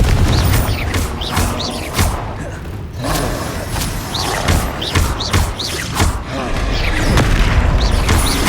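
Confringo fire-blast spells cast in the video game Hogwarts Legacy, a dense run of loud booming explosions and thuds with whooshes, repeating every second or so over continuous game combat noise.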